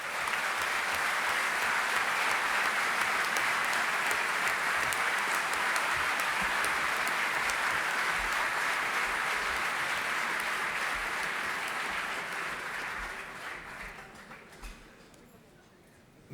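Sustained applause from a large audience in a hall at a French political party national council, a broad even roar of clapping lasting many seconds before gradually tapering off into quiet at the end.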